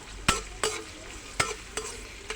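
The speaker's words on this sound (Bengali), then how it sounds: "মরিচ আর পেঁয়াজ দিয়ে দিলাম।" Chilies and onions frying in a pan alongside boiled fish, with steady sizzling broken by a few sharp stirring scrapes at irregular intervals, close and fairly loud.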